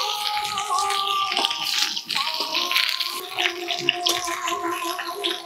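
Drumstick pieces drop into hot mustard oil in a wok and fry with a loud, bubbling, gurgling sizzle that holds steady for several seconds. The sound is close, with no talking.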